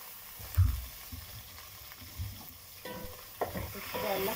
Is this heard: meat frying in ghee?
yes